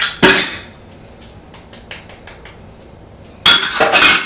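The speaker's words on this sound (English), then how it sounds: "we're going to start off by combining our flour, cocoa powder, salt, and baking soda together" Dry flour, cocoa powder, salt and baking soda being combined in a bowl for chocolate cake, heard as a loud burst of clattering utensil-on-bowl scraping, scattered light clinks, then another loud stretch of vigorous mixing.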